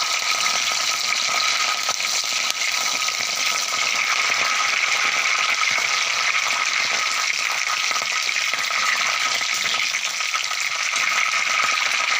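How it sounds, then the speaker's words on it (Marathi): Curry leaves fry in hot oil for a chutney, giving a steady, dense crackling sizzle that holds evenly loud and close throughout with no voices. "त्यामध्ये आपण ही कढीपत्त्याची पानं घालून त्याला थोडं तळून घेतल्यानंतर"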